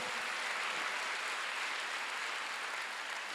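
A Korean church congregation applauds during a Sunday worship sermon, a steady, even wash of clapping that is fairly faint and distant and holds throughout, with no talk over it.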